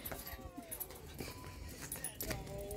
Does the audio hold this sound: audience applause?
no